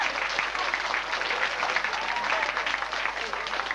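An audience claps at a lecture on the Middle Ages, a dense, steady patter of applause from many hands filling the room at moderate loudness without pause.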